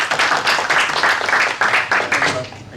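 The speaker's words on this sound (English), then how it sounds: "so a round of applause for you" Clapping from a small audience at a diabetes community event, close and fairly loud, uneven and bursty, trailing off toward the end.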